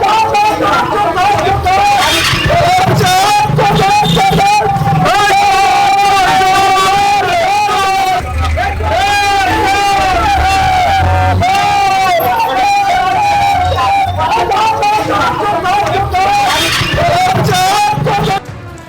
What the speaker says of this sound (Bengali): তপন চট্টোপাধ্যায়কে যখন নিয়ে যাচ্ছে পুলিশ, তখন তাকে উদ্দেশ্য করে চোর স্লোগান দিলেন স্থানীয়রা